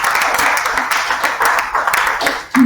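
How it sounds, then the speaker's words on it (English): Audience applause after a university research talk on communicating findings, a dense steady wash of many hands clapping throughout, fairly loud, swelling again near the end. "Another round of applause for Professor."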